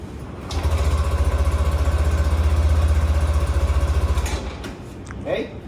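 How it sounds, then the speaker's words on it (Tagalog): A Yamaha Y-ECVT motorcycle engine starts and settles into a steady, throbbing idle for several seconds, close and loud, before shutting down into quieter rustles. "Ngayon, paandarin natin itong motorcycle."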